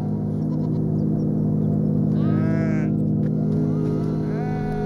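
Sheep bleating in a herd of nomadic herders' flock, several wavering bleats rising in turn over a steady low engine-like drone, fairly close and loud.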